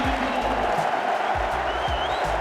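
A big stadium crowd cheers for footballer Ashley Cole, a loud continuous roar with a low rhythmic pulse under it, sustained through the short moment.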